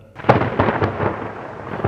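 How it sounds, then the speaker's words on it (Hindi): A lightning strike in a storm over a remote stretch of land brings a sharp thunderclap followed by rolling, rumbling booms that swell and fade with a faint hiss of rain beneath. "कहीं दूर जमीन के किसी वीरान छोर पर कड़कड़ाती बिजली जा गिरी"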